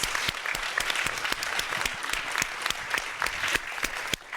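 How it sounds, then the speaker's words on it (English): A conference audience applauds a panel at a digital economy event, producing a sustained, even wash of clapping with crisp individual hand claps scattered through it, close and with no talking. "Give them a big round of applause."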